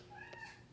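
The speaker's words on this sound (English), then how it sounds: "the cat's whining" A house cat meows once, a faint whining cry that rises and falls in pitch over a brief moment, heard indoors.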